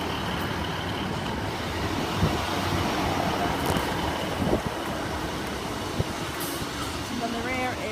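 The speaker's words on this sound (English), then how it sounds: "Next to arrive is 150123, the 1351 Great Western Railway service to Exmouth" A Great Western Railway class 150 unit, 150123, pulls into Dawlish station on the 13:51 service to Exmouth. It makes a steady, broad rumble that holds for several seconds, with a voice talking over it.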